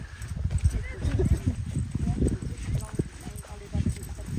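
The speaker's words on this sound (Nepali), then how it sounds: "कति मजाले घोडा पनि चढ्दो रहेछ है चौरीमा घोडाहरू चढ्दै" Horse hooves clip-clop on a Mundhum trail through high pasture as horses are ridden, steady uneven steps heard close under loud ongoing conversation.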